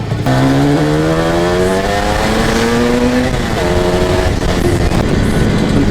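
An IZh Jupiter 400cc twin-carburettor motorcycle is ridden hard, loud and close. The engine revs climb in pitch, drop briefly as a gear changes, then climb again under steady wind and road noise.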